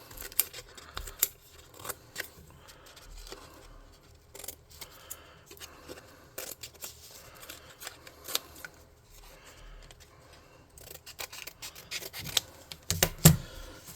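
Scissors trimming excess material from the corners of a tabletop-game hover car scatter model, producing faint, irregular snips and rustling handling noises close by with no talking.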